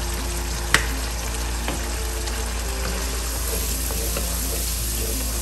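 Tomato paste and paprika fry in a pan for paella while being stirred, a steady loud sizzle with a low hum beneath it and a few faint scraping strokes, no voices.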